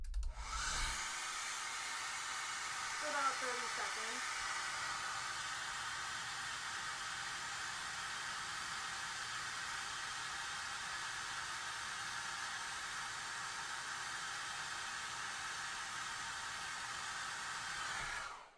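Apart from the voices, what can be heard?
hair dryer running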